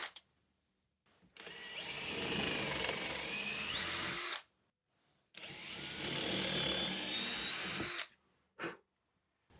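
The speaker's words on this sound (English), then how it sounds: "I'm going to get a series of 5 holes drilled in the middle of each of the planks." A power drill boring holes into wooden planks for a shed step, two loud sustained whirring runs of a few seconds each separated by a pause, with a short burst at the end.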